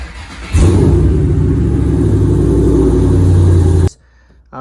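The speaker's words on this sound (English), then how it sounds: "I got the dash all the way in, clusters back in, car actually starts." A Ford Mustang S197 engine cranks and fires up after its dashboard is reinstalled, settling into a loud, steady low rumble for a few seconds before cutting off abruptly.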